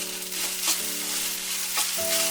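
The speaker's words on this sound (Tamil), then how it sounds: "கொஞ்ச நேரம் கிண்டுன மாதிரி ரெடி ஆகிடும்." Okra (lady's finger) fries in a pan for a Tamil poriyal, a steady close sizzle broken by a few scraping stirs, with a constant tonal hum underneath and no talking.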